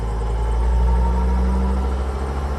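A Mercedes T1N Sprinter diesel engine holds a raised high idle: a continuous, even low rumble, close and steady, with no voices.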